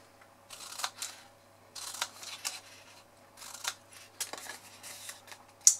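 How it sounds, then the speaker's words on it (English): Scissors snip wedges out of the corners of a card box, sounding as a series of soft, close cutting bursts with brief gaps between them. "So cut down one side and cut our wedges out."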